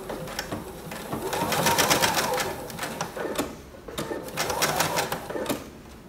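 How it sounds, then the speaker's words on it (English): A home sewing machine runs in steady bursts, near and clear, stitching a seam around a fully lined baby boy romper, speeding up and slowing down between short pauses. "I'm going to sew all the way around, keeping the 5/8 inch seam allowance."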